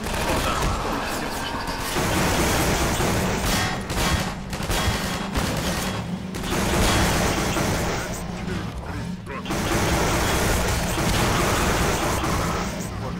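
Video game gunfire rattles in dense, sustained bursts of loud shots and crashing impacts that fill the scene almost continuously, with someone talking over the action.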